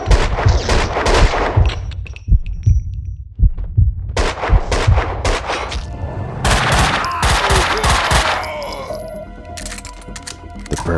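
Max Payne 2 gunfight with heavy, booming gunshots fired in quick bursts and rapid volleys, loud and close, with dense overlapping blasts and rattling impacts throughout.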